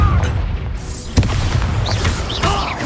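A Confringo fire spell explodes in the Hogwarts Legacy video game, a loud boom with a sharp crash near the middle over a steady rumbling game backdrop, followed by whooshing magical effects.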